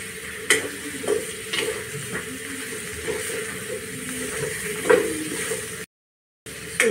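Brinjal sautéing in oil with Malvani masala alongside dried bay prawns, a soft steady sizzle with occasional stirring scrapes and knocks of a spoon in the pan, close and even, with a brief dropout near the end.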